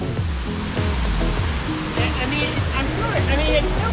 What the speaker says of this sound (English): we found about 10 different waterfalls that we visited